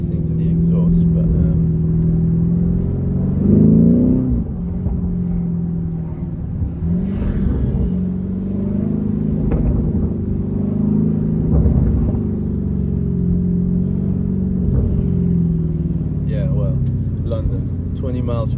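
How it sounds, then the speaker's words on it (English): Sports car exhaust heard from inside the cabin with the window down while driving a slow urban road, a constant low engine rumble with brief swells, running under near continuous talk. "Let me see if I can put the window down. This is not the best road for listening to the exhaust"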